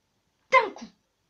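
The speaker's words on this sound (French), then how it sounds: "J'ai éternué comme ça. D'un coup." A single short, sharp sneeze bursts out of near silence in a room, close and clear, with no other sound around it.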